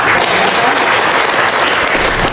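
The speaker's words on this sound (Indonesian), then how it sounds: "Ya, tidak salah kalau ada tepuk tangan dengan kegiatan ini." Loud, dense applause from an audience at a student pharmacy innovation product exhibition, continuous clapping filling the short stretch without speech.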